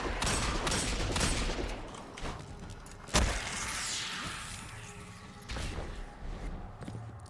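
Heavy Pike vehicle cannons firing in Destiny 2, a dense barrage of rapid blasts and booms with one sharp loud crack midway, mixed with mechanical clatter and rumbling game effects.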